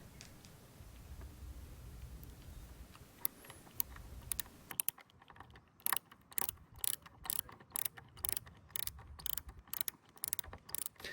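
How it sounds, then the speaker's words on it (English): A manual ratcheting screwdriver drives screws into an eDecks Atlas Gazebo Deluxe, giving a close, steady run of sharp clicks in bursts after a quieter start. "we're now using the manual screwdriver whilst the cordless one is being charged up"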